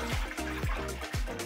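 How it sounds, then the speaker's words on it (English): Tap water pours into the removable water tank of a Dinamica coffee machine, a steady close splashing and gurgling stream with rhythmic glugs as the tank fills toward its maximum level. "We're going to fill up the water tank to the max level."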